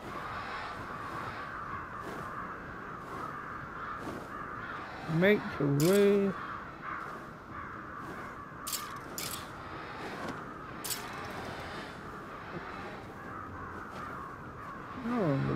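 A crow caws a few times in Ghostwire: Tokyo, its harsh calls rising over steady game ambience and music while people talk throughout.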